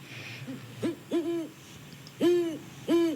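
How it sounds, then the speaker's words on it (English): Owl hooting heard four times at an uneven pace, each call a soft, wavering hoot of moderate distance, with quiet background hiss between calls. "Now to your right, you hear pretty faint hooting of an owl."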